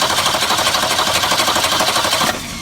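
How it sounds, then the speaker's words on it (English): 1966 Ford Mustang engine cranking with a rapid, rhythmic churning from the self-starter, loud and close, which cuts off abruptly near the end without catching. "I'm just going to see if the fuel pump can get it running."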